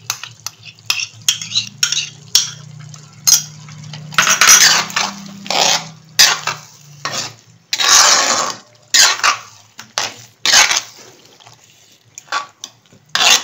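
Chicken in beaten yogurt is stirred in a metal pot, a close, loud run of irregular scraping and clinking strokes with brief pauses and a low simmering hum underneath, no voices.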